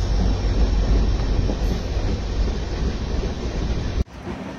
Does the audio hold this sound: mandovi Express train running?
yes